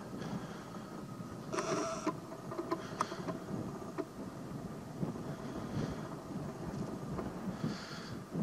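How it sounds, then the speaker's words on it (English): Wind gusting against a microphone outdoors, giving low rumbling buffets that swell and fade irregularly, with a few brief bursts of louder blustering, moderately loud and close, no speech. "wind's blowing"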